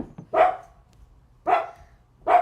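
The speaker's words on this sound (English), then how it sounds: "Penny's barking her little butt off." Penny the dog gives three sharp, fairly close barks, evenly spaced about a second apart, with quiet pauses between them and no talking.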